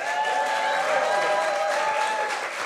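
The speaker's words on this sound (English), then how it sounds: "Can we give them a cheer?" A church congregation at an Easter Sunday service applauds and cheers, a steady dense wash of clapping filling the room at full loudness throughout, with no one speaking.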